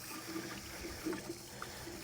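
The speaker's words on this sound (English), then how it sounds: "You can actually run some water through it." Water trickling and rinsing through a pool cyclone filter being washed out, a soft, steady, faint wash of flowing water with no talk.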